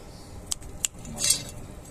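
Big metal spatula scraping and knocking inside a cooking pot at a night rooftop gathering in winter, giving a few sharp clinks and a brief scrape, fairly quiet and close.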